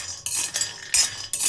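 Almonds dry-roasted over low heat in a pan are stirred with a utensil, giving four loud bursts of scraping and rattling against the metal, with short quieter gaps between them and no talk.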